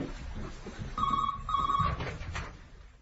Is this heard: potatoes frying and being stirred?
no